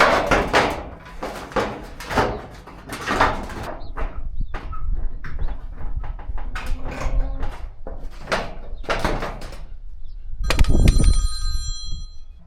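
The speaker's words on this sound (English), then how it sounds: "When you get a phone call like that where you don't really want to answer" Telephone rings during storm-damage roof repair on a farm, a bright repeated electronic ring near the end, following a stretch of bumps, knocks and thuds from the work.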